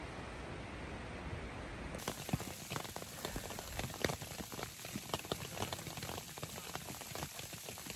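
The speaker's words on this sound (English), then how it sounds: "The sound of the rain hitting the tent." Rain hitting a hot tent during cold-weather camping, dense patter of drops on the fabric, faint at first and then a fuller, crisper spray with scattered louder taps, steady and close with no voices.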